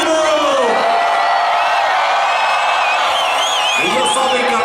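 Large concert crowd in Aguascalientes, Mexico, at a live show, cheering, whooping and shouting loudly and continuously, with scattered high whistles and yells rising over the roar.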